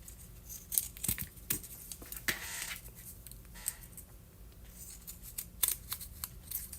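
Scissors snip through pieces of paper in quiet, irregular close-up cuts, with short crisp blade closures and light paper rustling between them.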